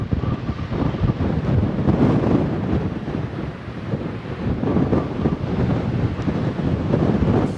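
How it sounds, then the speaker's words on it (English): Steady, gusty wind buffets the microphone at a cold desert campsite in Death Valley, a loud continuous roar with surging rumble and no voices. "The wind's still blowing."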